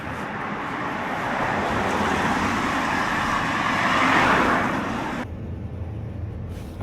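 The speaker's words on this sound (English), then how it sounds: "There is a traffic right now" Steady road traffic rumbles from nearby cars and heavier vehicles, a continuous broadband wash that swells slightly midway and then thins abruptly near the end.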